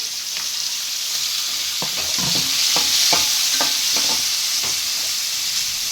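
Green chilies and tomatoes fry in a pan, with a steady, close sizzle and a few scraping clicks of a spoon stirring through them. No one speaks.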